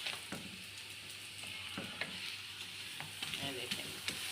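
Lachha paratha frying in oil on a hot pan, giving a steady close sizzle with occasional sharp crackles and light scraping taps, no talk.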